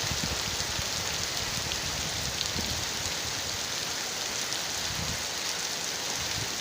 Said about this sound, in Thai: แต่ว่าให้ดู ว่าขณะนี้ฝนตกนะครับ